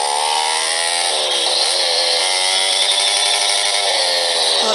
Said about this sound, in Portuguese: A moto tá muito barulhenta.